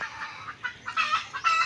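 A backyard chicken clucks in a short series of bursts, close and fairly soft, with the calls rising toward the end and no talk over them.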